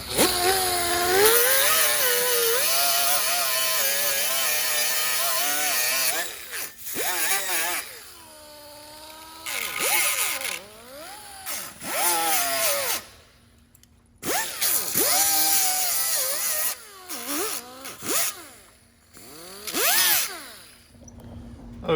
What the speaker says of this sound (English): I'm gonna take a little baby grinder and clean this paint off of here.